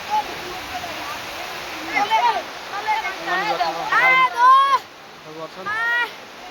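Water spilling over a dam makes a steady, broad rushing hiss throughout, with high chirping calls rising and falling over it in bursts.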